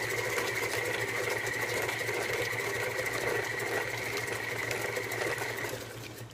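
An electric mixer blends mashed bananas for muffin batter, a steady loud motor hum with a high whirring tone running continuously, easing off slightly at the very end.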